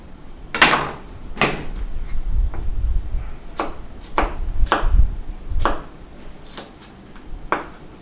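Red onion chopped with a knife on a cutting board, about a dozen uneven, sharp knocks spaced across several seconds, close and clear, with no one speaking.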